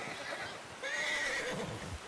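A horse whinnies in Red Dead Redemption 2, a loud, clear neigh rising and wavering for about a second over outdoor game ambience, with no talk.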